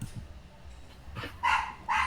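A dog barks twice in quick succession near the end, loud and close, after a quieter stretch of faint low rumble, with no speech over it.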